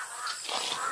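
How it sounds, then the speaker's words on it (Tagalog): A flock of crows caws in one short, rough burst that sounds a little distant and stands alone without any voices. "Ang daming uwak."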